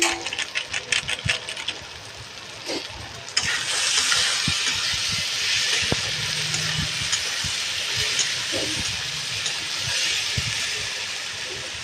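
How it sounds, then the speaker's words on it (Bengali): Chicken sizzles in a pan with chicken masala powder, and a loud, continuous frying hiss kicks in after a few quiet seconds, with a faint voice now and then. "এরকম করে আমি ভেজে নিচ্ছি"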